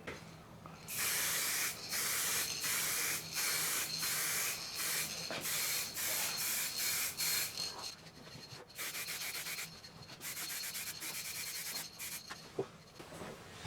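An aerosol can sprays light coats of paint in a series of loud hissing bursts separated by brief pauses, with a few shorter sprays and faint handling noises toward the end.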